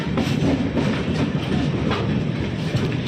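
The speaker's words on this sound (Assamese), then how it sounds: "ইয়াত ট্ৰেইনখন গৈ আছে।" A train rolls past at Visakhapatnam railway station, its wheels keeping a continuous rumbling clickety-clack, loud and close, with no voices.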